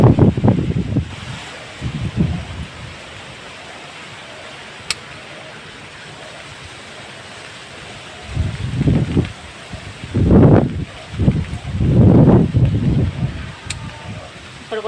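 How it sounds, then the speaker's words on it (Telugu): Gusty wind sweeps through a rainy vegetable garden of brinjal and ridge gourd plants, buffeting the microphone in loud rumbling bursts near the start and again through the second half, with calmer stretches between. "చాలా గాలి వేస్తుందండి,"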